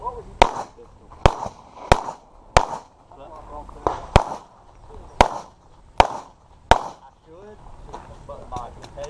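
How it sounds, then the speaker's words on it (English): Gunfire at a shooting practice session: about nine sharp, loud shots spaced roughly a second apart, with voices talking between the bangs. "Good shooting, Brian."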